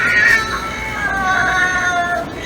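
An animatronic Halloween cat decoration gives a drawn-out, wavering mechanical meow, loud and close, sliding up and down in pitch over a few seconds.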